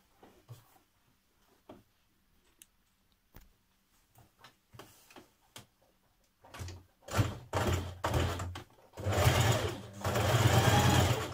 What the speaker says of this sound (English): we're going to top stitch 6mm away the whole way round again